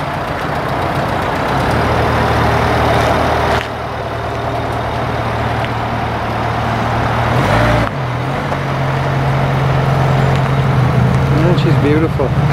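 A Vauxhall Vivaro long wheelbase crew cab van drives along with a steady loud engine drone and road rumble inside the cabin, pitch shifting slightly mid-way, while people talk over it.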